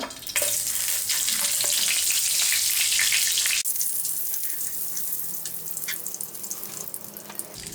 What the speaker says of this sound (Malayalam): ചട്ടി ചൂടായതിന് ശേഷം ഇതിലോട്ട് ഒരു മൂന്ന് ടേബിൾ സ്പൂൺ ഓയിൽ ഒഴിച്ചു കൊടുക്കുക ഒരു ഒന്നര ടേബിൾ സ്പൂൺ ബട്ടർ ഇട്ട് കൊടുക്കുക